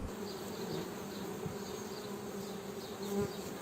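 Honeybees buzzing steadily at an open hive during a spring nectar flow, a dense continuous hum of many wings close by, with brief louder passes of individual bees near the end.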